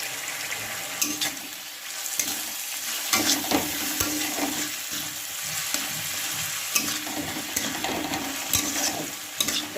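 A spoon stirs boal fish in mustard curry in a pan on a raised gas flame, with scraping strokes over a continuous close sizzle and a few sharp knocks, and no talking.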